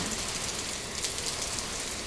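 Afternoon rain driven by strong storm wind, a dense, even hiss of falling water with no breaks, close and steady throughout.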